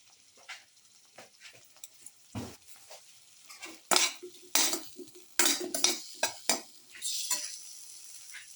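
A metal utensil clinks and scrapes against a pot while stirring a garlic potato and split chickpea casserole, irregular close taps and clatters growing louder, with a faint sizzle underneath.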